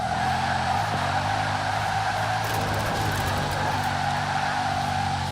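A Bugatti Chiron in Forza Horizon 4 accelerates hard, a loud sustained engine drone with steady tonal harmonics and some tire noise, continuous throughout without any talk.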